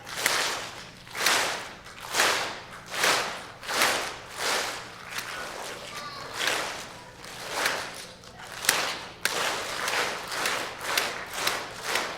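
A group of children claps together in a steady, even rhythm, about two claps per second, each clap a broad burst. The sound stays moderately loud and close throughout, with faint room murmur between claps.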